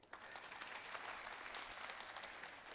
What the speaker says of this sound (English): He gets some applause there from the crowd.